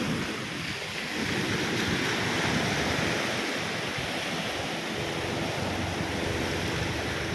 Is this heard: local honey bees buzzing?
no